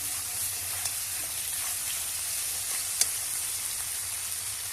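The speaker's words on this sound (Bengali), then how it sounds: "কাঁকড়ার সাথে কিন্তু মশলাটা ভালো করে কষিয়ে নেওয়া হয়ে গেছে। এটাকে তেল ছেড়ে দিয়েছে" Crab cooked down with masala spits and sizzles in released oil, making a steady, dense, close crackle with a few sharper pops.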